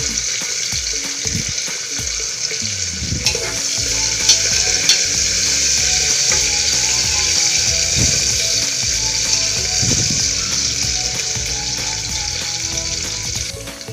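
Mutton curry frying in a pan with fenugreek leaves and mint for a Telangana-style dish, a loud, steady sizzle close up with spoon scrapes and knocks as it is stirred throughout.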